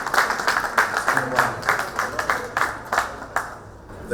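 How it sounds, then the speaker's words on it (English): Audience applause for Zambia's national football team, the Chipolopolo, after qualifying for the Africa Cup of Nations: a steady patter of clapping from a moderate crowd with repeated sharp hand claps, continuing throughout. "Take a hand of applause."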